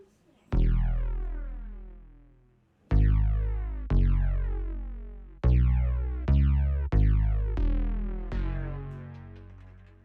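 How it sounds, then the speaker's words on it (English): A synth bass built from a cat purr sample in a wavetable synth plays about eight plucked low notes, each decaying with a bright, buzzy edge; upfront and alone. "And I turned the cat purr into a bass."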